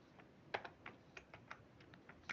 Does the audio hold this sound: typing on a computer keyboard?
yes